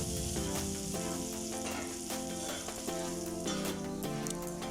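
Vegetables frying in a pan with cumin, coriander and turmeric powder for a sour rohu fish curry, a steady sizzle throughout with soft background music over it.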